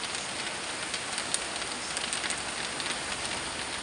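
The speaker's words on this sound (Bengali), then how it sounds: "দেখছেন বাইরে আজকে আবার কি বৃষ্টি।" Heavy rain falling outside, an even, dense hiss of drops pattering on surfaces, close and continuous, with no talking.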